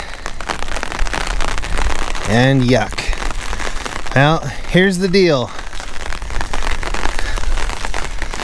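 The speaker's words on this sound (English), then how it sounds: "we got rain and rain" Steady rain patters on a surface throughout, with someone talking briefly over the constant wash of drops.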